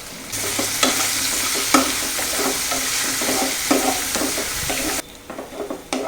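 Onions sautéed with a little salt sizzle in a pan while a spoon stirs them in repeated scraping strokes. The stirring stops near the end and leaves a softer fry.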